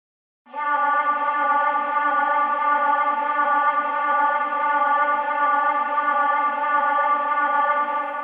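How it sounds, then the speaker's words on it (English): A sustained, pulsing synth-like tone with rich harmonics wavers steadily in volume from a tremolo effect in Logic Pro, washed in heavy reverb, holding continuously for several seconds. "Something with that tremolo effect could sound interesting with a bunch of reverb on it."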